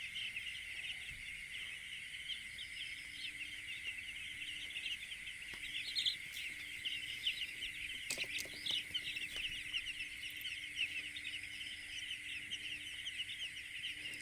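A dense, steady chorus of high peeping from week-old chicks crowded on a poultry farm, continuous and fairly faint, with a few scattered knocks and rustles.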